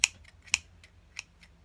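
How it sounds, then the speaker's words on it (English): Scissors snipping a crochet yarn tail, a few quick crisp cuts close up and quiet, with no talking. "So I'm just going to cut a little tail."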